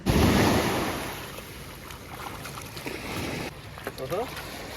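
Ocean surf washing ashore at a seashore campsite, a steady broadband wash of waves loudest at the start, with wind buffeting the microphone and faint voices and handling noise toward the end.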